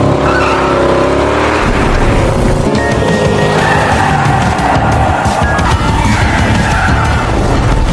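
A car driven recklessly in the action film Silent Night (2023) skids with long tire squeals over a loud, steady engine roar, close and intense throughout.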